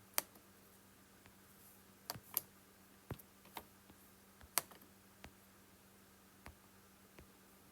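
Faint, sparse clicks of someone typing on a small, worn keypad, a few irregular taps scattered across a quiet background with no talk.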